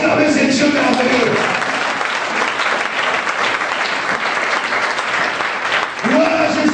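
A church congregation at a French-language sermon applauds and cheers, a loud, dense wash of clapping and voices that fills the whole stretch, with a pastor's voice briefly audible near the start and end.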